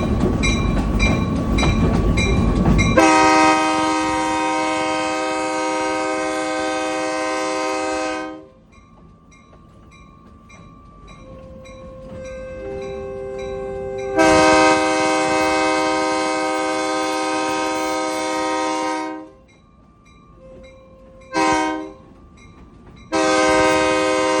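Locomotive 204 sounds its horn in long, loud, chord-like blasts while riding past a road crossing at a Florida railroad museum. Rolling rail noise runs beneath the blasts, and a short toot comes just before the final blast.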